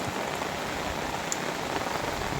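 Steady rain with water running, a dense even hiss of falling drops and flow, continuous and fairly faint, with no talk.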